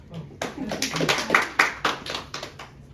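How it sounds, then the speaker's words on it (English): A handful of people clap briefly at a reality-competition vote reading, a short irregular burst of close hand claps over about two seconds with some murmuring voices underneath. "You're allowed to clap."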